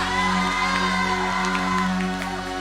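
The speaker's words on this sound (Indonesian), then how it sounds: "Mari kita tepuk tangan yang paling meriah buat Tuhan Yesus Kristus" Church congregation at a worship service cheering and whooping for Jesus, a loud, sustained crowd roar with sustained tones beneath and no clear separate claps.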